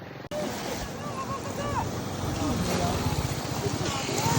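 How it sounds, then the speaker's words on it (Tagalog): Strong waves churn on Taal Lake, a continuous rushing wash of water close by that builds louder toward the end, with wind buffeting the microphone. "Tingnan nyo kung gaano kalakas ang alon."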